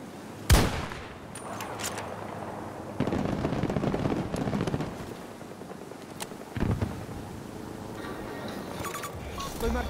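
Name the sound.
sniper and machine gun fire in Battlefield 2042 video game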